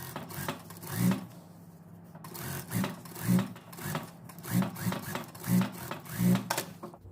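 A sewing machine stitches fabric for a one-piece dress in short, repeated close runs of rhythmic whirring, with someone talking quietly between and over them.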